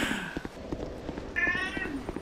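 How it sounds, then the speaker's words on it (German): A cat meows a couple of times, faint and somewhat distant, amid low background game sounds and faint voices during a co-op Dark Souls 2 session. "deine Katze heißt echt Felix?"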